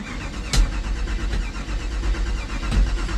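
A ten-year-old drag-and-drive car's cold engine runs under light throttle, a close, steady low rumble with rattling and clanking from the supercharger and a couple of sharper knocks, with no talk.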